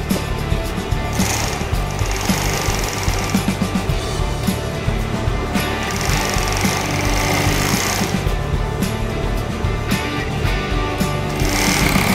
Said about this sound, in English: Today we'll be viewing the Siruba 757 DFT-516M2-56 top feed heavy duty overlock.